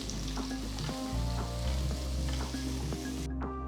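Long-sliced onions sizzle in hot oil with whole spices for a pea pulao, a steady close frying hiss with light stirring clatter over a few seconds, no voices.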